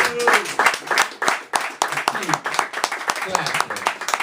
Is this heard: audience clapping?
yes